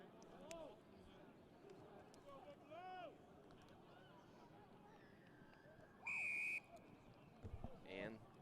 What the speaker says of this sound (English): And whistle blows.